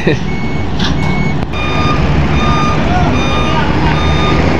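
A truck backs out of a passenger ship at a Philippine port, its loud steady reversing beeps repeating over engine rumble and busy harbor noise, with people talking in the background.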